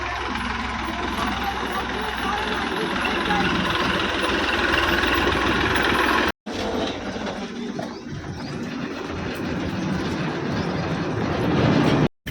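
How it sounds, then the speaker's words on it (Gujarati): A tractor hauling a load of farm manure drives along, its loud rattling engine rumbling steadily up close, with a brief cut-out midway and at the end. "આ ટ્રેક્ટર લઈને ખેતર જવાનું છે"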